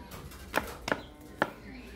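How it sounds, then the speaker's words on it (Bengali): A knife chops rolled, oil-folded snack dough into square pieces with three sharp separate strikes on the board, close and clear, with no talk. "এখানে ঠিক এই রকম করে একটু চৌকো চৌকো করে কেটে নিয়েছি।"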